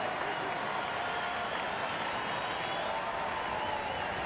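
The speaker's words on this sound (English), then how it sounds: "Crowd comes alive." Baseball stadium crowd at a Cardinals–Tigers game rising into a sustained roar of cheering and clapping, a broad, continuous wash of distant noise at a steady level throughout.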